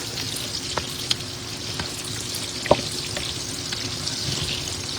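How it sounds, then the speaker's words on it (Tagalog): Eggplant frying in oil in a pan, a steady crackling sizzle with scattered pops and one sharper clack of a utensil partway through. "Talong na pirito mga idol."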